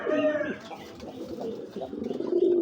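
Giribaz highflyer pigeons coo in short rolling bursts, close and fairly soft, with a rising burst near the end.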